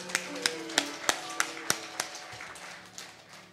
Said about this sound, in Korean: 언제나 감사하신 주님께 큰 박수로 영광 드리겠습니다